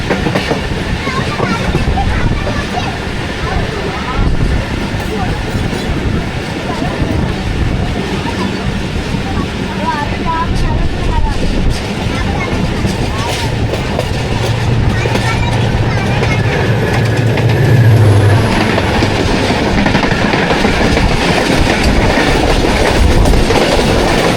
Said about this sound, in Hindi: होपफुली ये कोई कंटेनर ट्रेन हो, फ्रेट ट्रेन हो।